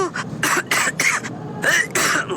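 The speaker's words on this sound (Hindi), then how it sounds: "मोना जोर जोर से खांसने लगी और उसका दम घुटने लगा।" Repeated harsh coughing from chili smoke in a Hindi cartoon horror story, a series of loud, closely spaced coughs and throat-clearing bursts in quick succession.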